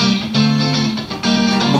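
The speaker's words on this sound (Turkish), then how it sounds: "Bu gitarları ben çalıyorum işte." Studio mix with guitar parts panned hard left and right, the guitars playing full, sustained chords with a brief dip midway, loud and without anyone talking.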